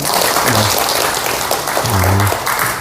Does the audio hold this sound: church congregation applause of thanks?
yes